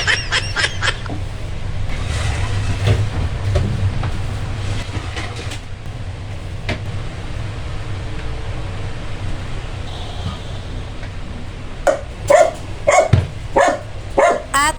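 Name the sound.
pet dog barking at parcel delivery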